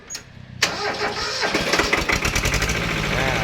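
A small Japanese two-cylinder tractor engine cranks and catches at once, then runs with a loud, steady, rattling idle.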